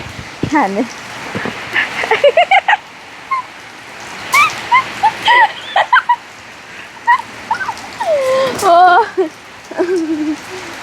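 Steady rain pours down throughout a storm as a constant broadband hiss, while fowl gobble and call in bursts nearby and voices talk intermittently over the downpour.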